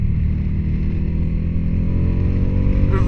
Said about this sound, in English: So let me hit the downshift here.